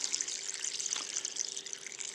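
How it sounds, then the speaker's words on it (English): Tap water running steadily into a pot of sausage and collard greens, a continuous hissing pour with a slight gurgle partway through, close and fairly quiet, with no talk. "And we're going to add water until we can see it."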